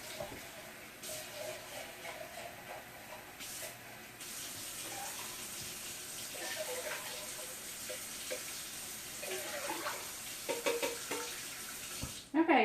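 Tap water runs steadily into emptied tomato cans in a kitchen, a continuous close rushing hiss that shifts slightly in pitch as the cans fill, ending with a brief clatter.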